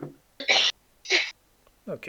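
A person sneezes in short, sharp bursts, mixed in with a brief spoken word from a nearby voice.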